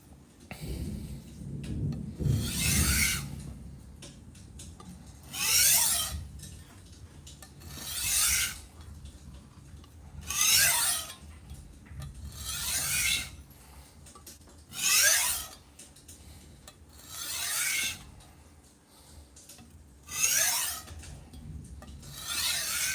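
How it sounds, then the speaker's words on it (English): Soft steel knife blade drawn across a sharpening stone in about eight long, raspy strokes at a steady unhurried pace, close and clear with quiet gaps between. "these softer steels, man, they sharpen really quick"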